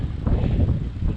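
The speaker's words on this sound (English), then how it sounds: "It's actually pretty windy," Gusty wind roars across a microphone outdoors during a bike ride along a river in Tokyo, a loud continuous low rumble with slight surges and no speech.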